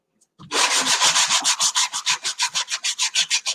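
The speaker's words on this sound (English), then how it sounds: "I could use a sanding block and I would use a rougher one. This is an 80 grit." Coarse 80-grit sanding block rubbed back and forth along the edges of a wooden picture frame, a close, loud run of about twenty rhythmic rasping strokes that quicken slightly and settle into a steady scrubbing pulse.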